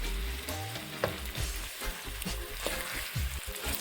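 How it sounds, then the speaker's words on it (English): Ackee going into a hot frying pan with saltfish and shrimp, a steady loud sizzle and crackle of frying food with occasional stirring clinks throughout, no talking. "And now I'm going to add my ackee."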